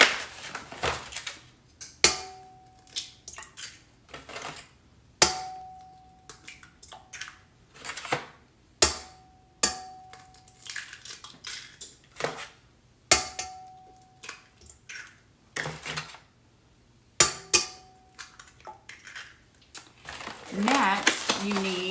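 Eggs cracked one after another into a big mixing bowl for pumpkin bread, a series of sharp taps and crackles separated by pauses, with a person talking between them.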